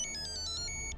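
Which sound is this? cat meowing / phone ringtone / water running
phone ringtone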